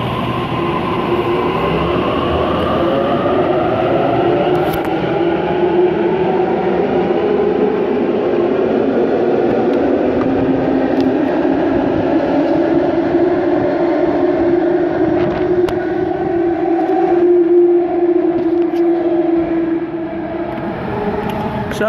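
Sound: Sydney train departing Macquarie University Station

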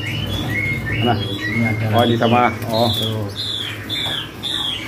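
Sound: European starling calls at bird market

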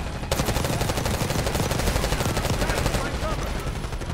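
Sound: shotgun firing in video game Black Ops 6

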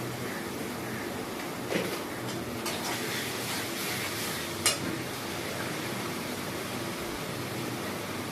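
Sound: spices with turmeric and Kashmiri chili frying in oil

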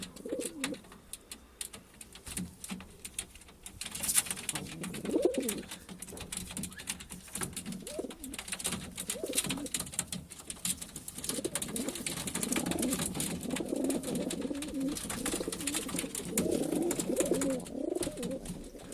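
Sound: pigeons cooing in a loft

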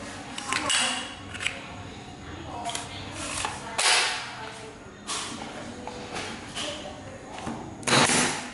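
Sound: Japanese pneumatic nail gun firing nails

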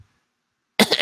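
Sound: narrator imitating a little cough

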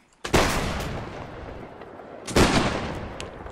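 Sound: line infantry volley gunfire in a video game

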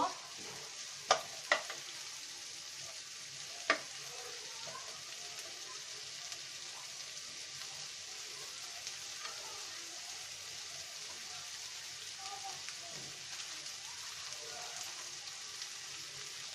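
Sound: onions frying until brown

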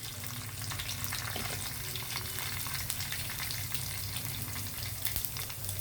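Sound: urad and chana dal, cumin, mustard frying in oil

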